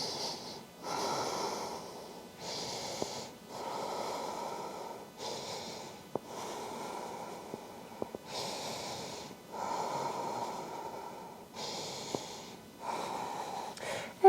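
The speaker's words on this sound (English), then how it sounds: "Breathe." Slow, deep breathing during a yoga pose, with audible inhales and exhales in a regular rhythm every couple of seconds, close and fairly quiet, with a few soft sniffs.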